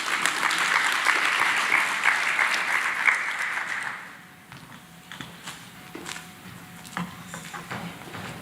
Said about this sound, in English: A big round of applause for the Commissioner.